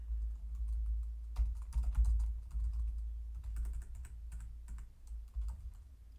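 Steady typing of C code on a computer keyboard, a continuous patter of close clicks and keystrokes over a deep constant low hum, with no speech.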